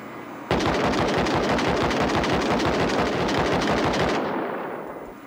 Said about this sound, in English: I'm wondering if we can shoot the turrets down using the turrets.